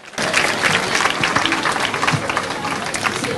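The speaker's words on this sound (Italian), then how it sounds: "Un altro applauso" A crowd of spectators at a Bella di Marca beauty pageant event in San Vendemiano applauds loudly and steadily, dense clapping rising sharply at the start and continuing throughout, with some voices mixed in.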